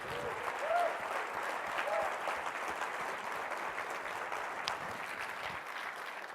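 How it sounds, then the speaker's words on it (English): Steady applause from a conference keynote audience fills the room, a dense continuous wash of clapping that holds at an even level throughout, with faint murmurs of voices underneath. "Let's give them a big round of applause."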